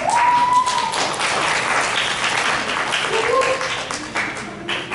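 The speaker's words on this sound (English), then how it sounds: "Give her a round of applause, please." Audience at a large annual convention panel applauds a speaker, a steady spread of clapping across the hall with faint voices and brief tonal sounds mixed in.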